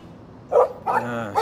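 Dog barking in the video game Life is Strange, a few sharp barks in quick bursts near the listener, with a low ambient hum underneath.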